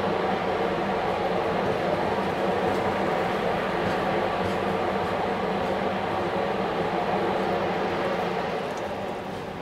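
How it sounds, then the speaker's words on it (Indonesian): The Dharma Wangsa passenger train, carrying economy and executive class cars, speeds past Randu Blatung station on the other track, producing a loud, continuous rumble and roar that holds steady and then eases slightly at the end. "Tadi itu kereta api Dharma Wangsa melaju di Sepur salah ya."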